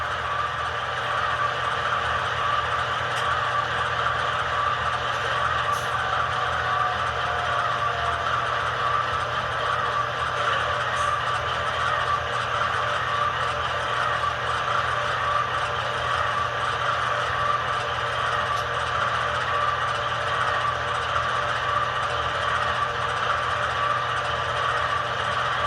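Steady diesel idle from an ESU V5 sound decoder in a Scaletrains C44-9W Dash 9 model locomotive, a continuous droning rumble with a whining mid-range tone, even and unbroken, no voices over it.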